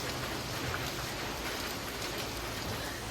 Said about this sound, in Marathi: ते काय पाऊस झाला सिंपलमध्ये खूप